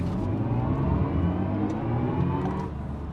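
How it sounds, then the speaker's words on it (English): BMW i4 M50 electric sports sedan accelerating briefly from the cabin, a steady close motor whir and road rumble holding evenly for a few seconds with no talk. "So now here's another chance to give it a quick squirt of power."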